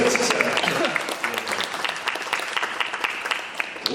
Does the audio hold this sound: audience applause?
yes